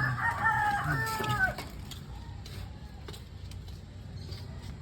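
Several chickens cluck and a rooster crows nearby at the start, then the birds quiet down to scattered faint clucks over soft background noise.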